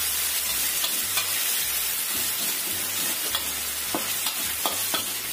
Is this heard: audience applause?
no